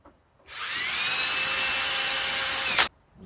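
Drilling a pilot hole into wood molding: a power drill spins up after a brief pause, holds a steady, close, high whine for over two seconds, then stops sharply.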